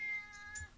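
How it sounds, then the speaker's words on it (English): A pet cat gives a brief, clear, high-pitched meow, fairly close and alone, over a quiet room background. "That's my cat"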